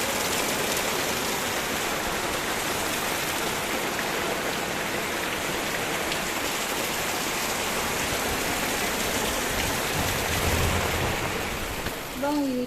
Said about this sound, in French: la pluie n'est pas encore terminée